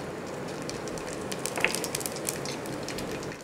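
Cumin seeds sizzle in hot oil for a dal tadka, a steady, close crackle with dense spitting pops that holds throughout.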